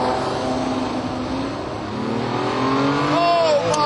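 A Ferrari F50 engine revs hard and accelerates close by, a loud sustained roar whose pitch climbs steadily past 5,000 RPM, ending in a rising high whine.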